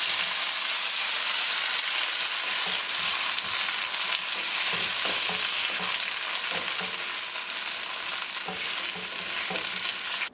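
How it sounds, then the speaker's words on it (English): Shrimp frying in a pan turned down to low heat, giving off a loud, continuous sizzle with occasional stirring scrapes and no talking. "the sizzle"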